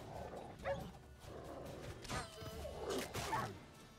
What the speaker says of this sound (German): Räudige Hunde.